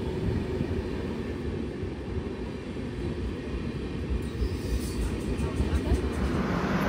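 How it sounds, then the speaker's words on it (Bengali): The Patna–Ernakulam superfast express arrives at Bankura station at night, a dense, continuous low rumble of rolling wheels and carriages that holds steady and close throughout. "আমাদের ট্রেন বাঁকুড়াতে রাত্রি 10টা 30-এ ট্রেন এসে গেছে।"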